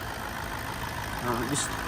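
A low-mileage Toyota Land Cruiser full-size SUV with a 4.5-liter (4,461 cc) turbo diesel engine idles with a steady, even rumble while someone talks over it.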